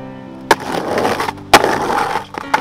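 A skateboard rolls over cracked ground strewn with dirt, glass and rocks, with two sharp loud pops from ollie tail snaps about a second apart over a continuous gritty wheel rumble.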